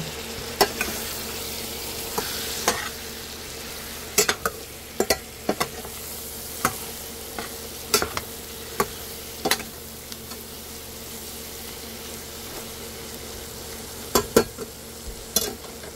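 Pancit canton with shrimp and vegetables is stir-fried in a pan, with a constant low sizzle broken by irregular sharp clacks of a utensil against the pan, close by.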